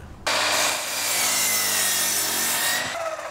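A hand saw cutting through a wooden roof ridge beam, a continuous loud rasping stroke lasting nearly three seconds, close up with no talking.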